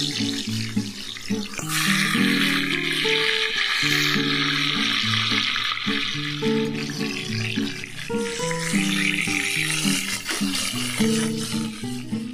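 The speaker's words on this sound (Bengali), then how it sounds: "তেলটা খুব ভালোভাবে গরম হয়ে গেলে মাছের মাথাগুলো একে একে দিয়ে দিতে হবে।" Fish heads fry in hot mustard oil, giving a loud, steady sizzling hiss that runs unbroken throughout, with a tonal melodic layer underneath.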